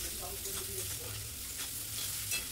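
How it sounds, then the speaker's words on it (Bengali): Sliced onion and green chili frying in hot oil for egg pasta, giving a steady close sizzle with occasional stirring scrapes throughout and no speech. "তো পেঁয়াজ কাঁচা লঙ্কাটা একটু হালকা ভেজে নিতে হবে।"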